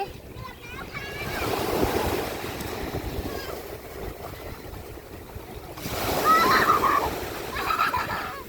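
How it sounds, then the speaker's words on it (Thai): Strong wind gusts across the microphone at Chao Samran Beach in Phetchaburi, with surf rolling in nearby and swelling louder in two broad surges. Voices are heard faintly underneath. "ลมมันแรงไป"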